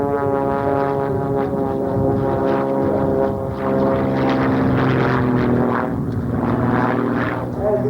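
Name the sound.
single-engine propeller stunt plane flying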